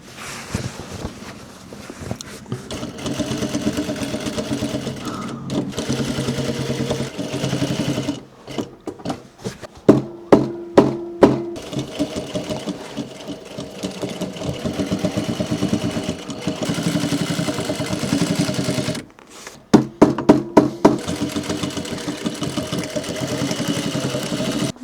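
A sewing machine top-stitches the seams of a workwear yard jacket in steady, close bursts of rapid needle chatter, pausing briefly a couple of times as the fabric is turned before running on again.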